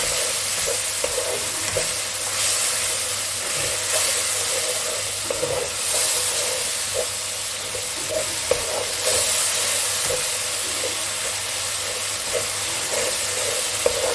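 Spice paste with added water frying in a pan for Bengali mutton curry, a steady loud sizzle and hiss with regular scraping ticks from stirring, no talking.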